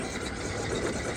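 An RC crawler's electric motor, on fake 2.2 Flat Iron XL tires, revs at big throttle with a steady, buzzing whine, slightly louder and harsher than cruising, with no pauses.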